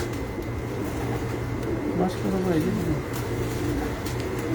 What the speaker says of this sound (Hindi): ये 3 कबूतर हैं जो 3 साल से उड़ रहे हैं